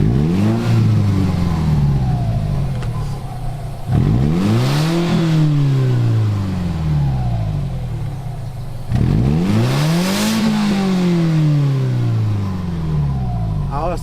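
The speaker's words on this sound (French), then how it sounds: "on va tester le bruit de la Subaru" A Subaru engine revs through its stock exhaust in three loud, rising-and-falling pulls, each followed by a drop back toward idle, with voices talking over the engine between revs.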